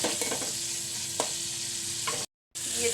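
Fish pieces frying in a pan with salt and turmeric powder, giving a steady close sizzle with a few utensil taps before the sound briefly drops out and then resumes.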